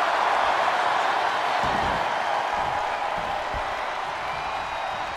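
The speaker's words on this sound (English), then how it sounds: "What a raucous crowd here tonight." A wrestling arena crowd in the WWE 2K22 video game roars steadily as a broad, continuous wash of noise during a women's match, with a few dull thuds from the ring breaking through.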